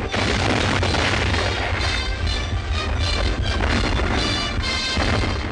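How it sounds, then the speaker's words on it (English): Anti-aircraft gun batteries crewed by Punjabi troops fire during coastal practice off Johor, heard as a dense, continuous roar of booming reports and rumbling blasts with no voices, in a 1929 recording. "anti-aircraft batteries, manned by Punjabis, practice their skill off the coast of Johor"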